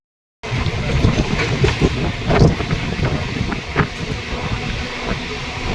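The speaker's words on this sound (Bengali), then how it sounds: "আমাদের সাথে ছিল এগারো হাজার সিরিজের নারকেল ডাঙা কারসেটের ট্রেন" A Narkeldanga 11000-series carset local train runs on a suburban Habra–Sealdah line, heard from on board. Its rumbling roar and rattling clatter are mixed with rushing wind, loud and continuous after a sudden start.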